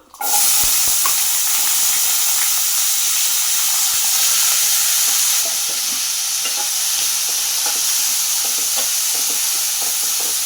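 Onions sizzle steadily in hot oil with mustard seeds and curry leaves, a bright continuous hiss with occasional stirring clicks and scrapes.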